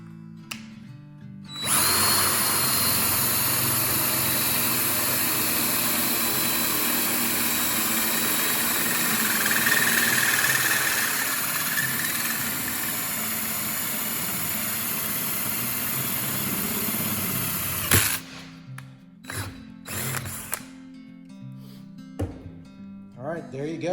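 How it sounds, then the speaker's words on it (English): A power drill with a freshly sharpened bit whirs loudly and steadily for about fifteen seconds as it bores through material, then cuts off, followed by faint clatter and brief speech. "let's see if we can drill through this"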